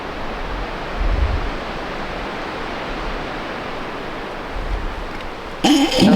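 Broad, steady rush of falling water from a waterfall, continuous and fairly loud, with a few louder low surges and a brief voice near the end.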